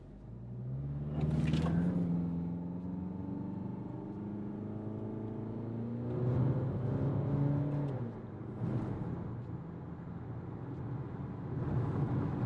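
A Peugeot 3008 engine revs up through several gears in sport mode with manual shifting, accelerating from 0 to 100, pitch climbing and dropping with each shift, a sustained interior drone from start to finish.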